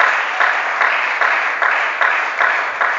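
A church congregation claps together in a dense, rhythmic burst of applause for the Lord, loud and close, with steady repeated swells throughout.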